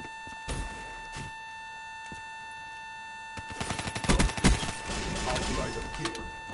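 Automatic gunfire from the Man O' War assault rifle in a PS4 shooter, a few isolated shots early, then sustained rapid bursts that grow loud and dense toward the end.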